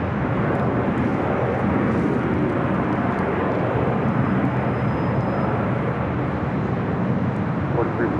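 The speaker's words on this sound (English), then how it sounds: "Do have the Lufthansa Queen heading back to Frankfurt, the 747-8 Intercontinental, Flight 457 starting or taxiing," A Lufthansa Boeing 747-8 Intercontinental taxis at Los Angeles International Airport, its engines giving a steady, broad jet roar that holds at a constant loud level throughout, with no pauses.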